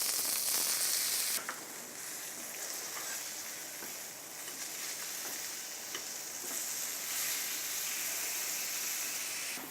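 Vegetables frying in a pan, a steady close sizzle and hiss that starts brighter and louder, then settles into a softer, even crackle with small pops scattered through, no voices over it.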